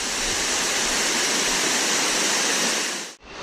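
A waterfall in Walton Glen Gorge roars close by, steady and loud broadband rushing water that cuts off abruptly near the end.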